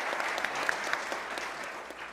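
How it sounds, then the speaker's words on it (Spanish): An audience applauds a speaker at a science and innovation talk, a steady even wash of clapping with a few whoops on top, sustained for the whole stretch. "Un aplauso para Abril"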